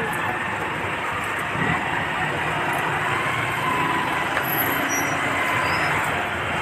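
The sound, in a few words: road traffic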